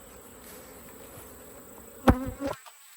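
Honeybees buzz around a hive box in a soft, steady drone, with a couple of louder close passes near the end before it cuts out.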